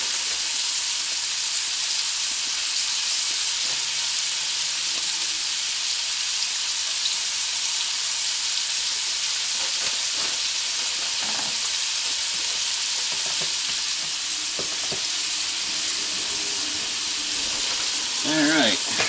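Pieces of deer heart fry in a hot pan, a steady loud sizzle and hiss holding throughout, with occasional crackles and small scrapes rising near the end.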